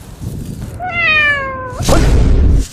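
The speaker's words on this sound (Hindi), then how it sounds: "कभी बिल्ली का आवाज आ रहा है" A cat lets out a single drawn-out meow, clear and close, followed by a brief rustling thump.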